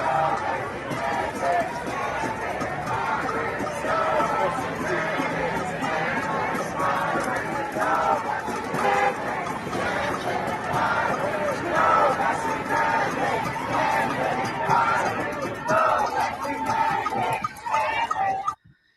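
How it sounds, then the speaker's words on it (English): A large crowd gathered outside the Barclays Center at the Nets home opener, holding signs in support of Kyrie Irving, with a loud, steady roar of chanting and babbling voices sustained throughout. "They're chanting, "No vaccine mandate, stand with Kyrie.""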